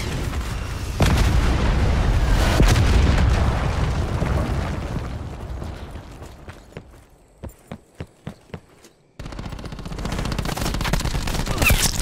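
Hellstorm missile strike in Call of Duty Black Ops 4, a heavy booming explosion with rumbling debris that fades out, followed by several sharp isolated gunshots, then loud gunfire and blasts resuming.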